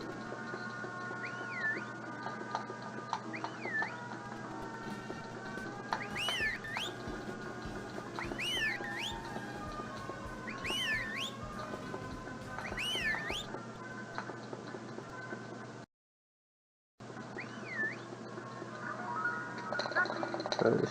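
Whistling in the video game Harvest Moon: Magical Melody: a series of rising and falling whistle notes repeats several times over steady background game music, with a brief dropout near the end.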